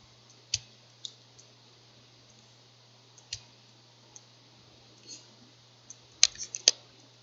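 Computer mouse clicks while working in the control panel of Windows Server: sparse, sharp single clicks and a quick cluster of several near the end, close and fairly faint over a steady low hum, with no talking.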